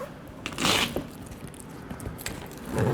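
A zipper on a Jeep TJ Wrangler replacement soft top is worked to get it started, giving a few short, close scraping and crunching pulls with quiet pauses between them.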